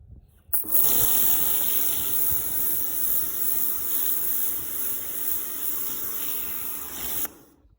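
A Karcher K2 Full Control Home 2020 pressure washer blasts water at weeds outdoors. A loud, steady hissing spray runs for about seven seconds, then stops.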